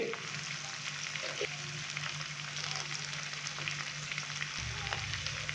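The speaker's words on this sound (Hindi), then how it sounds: "अभी अच्छे से हम इसको मिक्स करेंगे और 1 मिनट के लिए हम इसको मज़ीद फ्राई करेंगे" Chicken frying in a pan with fresh coriander stirred in, a steady broadband sizzle running throughout with a low hum beneath and occasional faint clinks of stirring, no voices.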